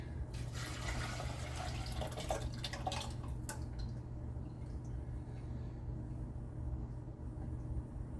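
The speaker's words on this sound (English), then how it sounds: "Now we're gonna pour it back." Hot chocolate is poured back into a container, giving a faint, steady liquid trickle that is busiest early and thins out toward the end, with no talk.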